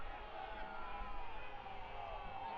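Stadium crowd at Weidner Field during a Colorado Springs Switchbacks FC versus Real Monarchs SLC soccer match, a steady distant roar of fans reacting under a commentator's voice.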